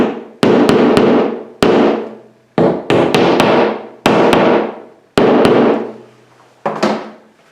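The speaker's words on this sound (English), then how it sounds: "we're just going to take our hammer and tap it" Hammer tapping drywall anchors flush into a wall while mounting a floating shelf: a run of sharp, close knocks in irregular clusters, loud and alone with no talk.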